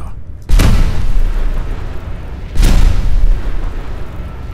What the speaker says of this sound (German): Explodiert da noch was?